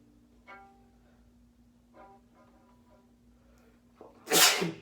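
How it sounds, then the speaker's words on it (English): A single loud, explosive sneeze bursts out near the end, preceded by a few soft vocal sounds and a quiet steady hum. "Sorry, I'm gonna sneeze."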